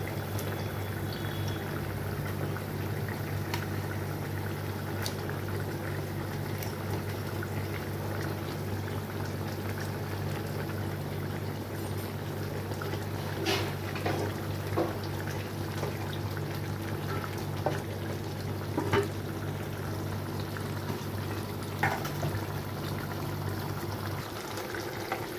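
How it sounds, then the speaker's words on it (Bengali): A fish curry gravy with potatoes boils steadily in a pot, giving a continuous low bubbling with occasional faint pops and clinks throughout. "এখানে ঝোলটা খুব ভালো মতো ফুটে গেছে।"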